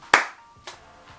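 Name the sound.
hand clap activating a custom neon sign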